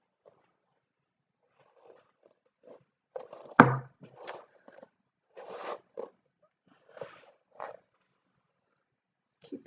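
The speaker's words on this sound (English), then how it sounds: "Keep hitting the table with my brush." Hairbrush knocked against a table a handful of times, giving irregular sharp thuds with one loud bang among softer taps and rustles, fairly close with quiet gaps between.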